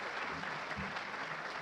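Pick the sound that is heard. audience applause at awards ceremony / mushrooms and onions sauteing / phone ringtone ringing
audience applause at awards ceremony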